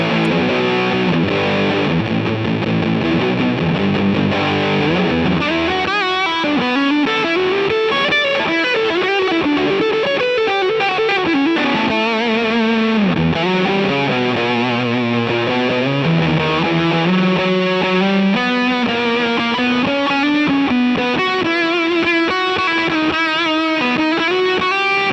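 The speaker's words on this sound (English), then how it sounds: "if we put a full on distortion all the way through" Electric guitar played with full distortion through a Lil' Rat pedal, thick saturated chords and sustained riffs ringing loud and continuous throughout.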